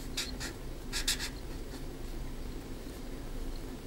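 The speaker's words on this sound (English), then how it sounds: "I write it down" Pen or chalk writing out a math equation, with short scratchy strokes in quick bursts up close over a low steady background hum.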